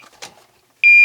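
A TOPTES CT-580 carbon monoxide detector sounds its alarm, a loud, steady high-pitched electronic beep that starts abruptly near the end after a stretch of faint background noise.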